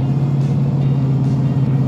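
A modified 2024 Ford Mustang Dark Horse V8 with factory exhaust manifolds, factory catalytic converters and a resonator delete drones steadily at close range, a deep, even exhaust rumble at cruise without any talking.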